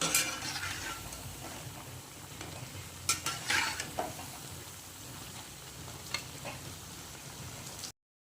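Aloo bajji, potato fritters in batter, frying for an evening snack with a steady close sizzle of oil, broken by a few sharp scrapes and clinks of a utensil against the pan around the middle.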